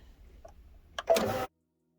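An embroidery machine stitching a corner of a quilted folio gives a brief, moderately loud mechanical whirring burst of about half a second after near silence, then stops abruptly.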